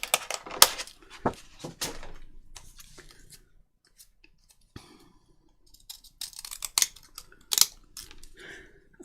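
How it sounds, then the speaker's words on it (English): Deckle-edged scissors snip through paper tags in a series of crisp, close clicking cuts, clustered at the start and again near the end with a quiet pause between. "I wish I could remember where I got these deckle-edged scissors from, because they really are so good"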